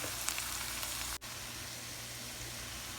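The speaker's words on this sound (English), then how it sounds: "Now I'm going to add our broccoli and stir that up." Broccoli stirred into garlic frying in a soup pot, a steady close sizzle and hiss with a brief dip as the florets go in, continuing evenly afterward without talk.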